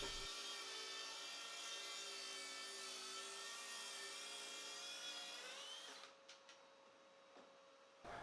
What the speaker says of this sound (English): slowly move your saw along the track